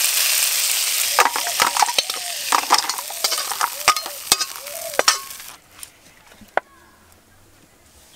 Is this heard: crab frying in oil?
yes